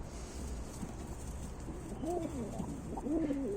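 Soft, throaty cooing of Ukrainian high-flying pigeons, a couple of rolling calls near the end over a low rustling background.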